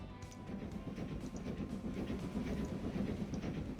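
Train rolling along rails in the Transport Fever 2 game, a steady low rumble with faint clattering throughout, fairly close and alone without talk.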